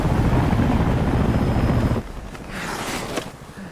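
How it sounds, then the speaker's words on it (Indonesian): A loud helicopter roars overhead with heavy rotor rumble, then fades to a more distant whirring with wind buffeting the microphone. "sebuah helikopter datang mengejutkan mereka"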